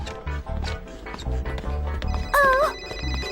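A mobile phone rings with a warbling, trilling electronic ringtone over a musical cartoon soundtrack, a short loud burst lasting about a second.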